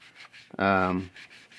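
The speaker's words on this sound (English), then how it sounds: "lightly going in here with a ultra fine sanding sponge from 3M and some water" A brief, squeaky rubbing sound of wet sanding with an ultra fine sanding sponge, lasting about half a second, close and fairly loud, with quiet background noise around it.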